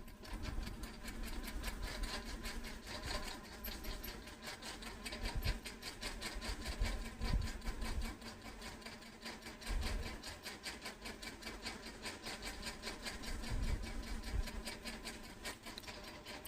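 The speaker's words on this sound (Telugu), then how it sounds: "చూడండి, ఈ విధంగా మనం కుట్టాల్సి ఉంటుందన్నమాట." Sewing machine running steadily while stitching the ends of thin piping cloth for a round neckline, a close, continuous fast mechanical whir with slight swells and no talk.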